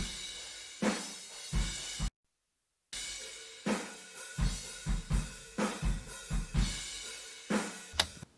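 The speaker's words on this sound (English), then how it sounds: "Like best drum room mics I've ever had, and it's recorded in a kitchen." A drum kit played in a kitchen and picked up by Neumann KM 184 room mics about 12 feet away facing the back walls: roomy kick and snare hits with cymbal wash, a brief dropout, then a steady beat.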